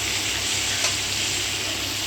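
Shell-on shrimp frying in hot oil while being stirred in a pan: a loud, dense, continuous sizzle with scraping stir noises, heard up close without any voices.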